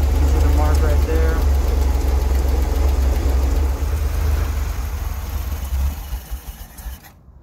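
A Chevrolet Corvair engine with an idle problem runs at a steady low rumble, its air-cooled flat-six note dominating before fading toward shutdown at the end.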